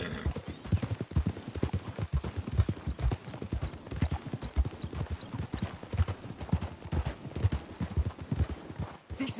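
Steady clip-clop of horse hooves walking in the video game Red Dead Redemption 2, a continuous rhythmic clatter close by, with an occasional faint whinny.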